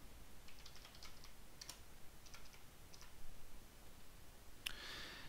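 Light keyboard typing in short clusters of clicks, a few quick bursts spread across the clip, close and fairly quiet, no voices.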